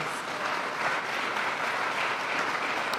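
Sustained applause from an audience at a clean water event in Pittsburgh, steady dense clapping filling the whole stretch at even loudness with no voices over it.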